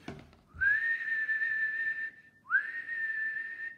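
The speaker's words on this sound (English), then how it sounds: "And right then, Thomas blew his whistle." Thomas the Tank Engine's train whistle sounds as two long, steady, high whistle blasts, the first about one and a half seconds, the second shorter after a brief gap, clear and alone.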